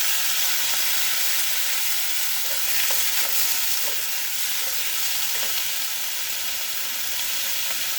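Chopped tomatoes and green chilies hit hot oil with cumin in a pan for tomato chutney, giving a loud, steady hissing sizzle with faint stirring clicks throughout, close and continuous without speech.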